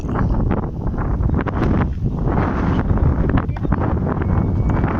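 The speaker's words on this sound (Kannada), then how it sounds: "ಆಹಾ ಗಾಳಿ ಹೆಂಗ್ ಬೀಸ್ತಾ ಇದೆ." Strong wind gusts across the rocky Sidilu Mallikarjuna Hill viewpoint near Bettadapura, producing a loud, continuous low rumble that buffets the microphone throughout.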